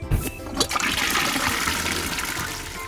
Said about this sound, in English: That's right, a toilet!